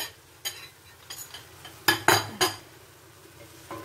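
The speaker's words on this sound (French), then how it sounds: "je vais bien mélanger" Chicken and a whole head of chopped garlic being stirred in a pan, a utensil scraping and clinking against the metal in irregular strokes with a few louder knocks, close and without talk.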